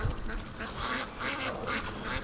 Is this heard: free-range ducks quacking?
yes